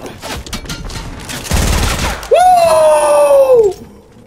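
Gunfire in a shooting video game, a loud burst of shots followed by a sustained whining tone, heard alone without speech.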